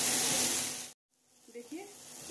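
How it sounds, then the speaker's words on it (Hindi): Soybeans frying in a pan make a loud sizzle for about a second before it cuts off abruptly, followed by near quiet and brief voice sounds. "और फिर इसको 1 मिनट के लिए फ्राई कर देंगे।"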